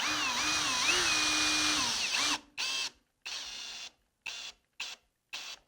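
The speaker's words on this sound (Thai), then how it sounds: "ขันน็อตเข้าไปเลยนะครับเบาๆนะครับเพราะว่าปรับเป็นเกียร์ 1" Cordless power drill set to gear 1 driving screws into wall anchors while fitting a house power outlet: a whining run with pitch shifts, then several short separate bursts split by silence.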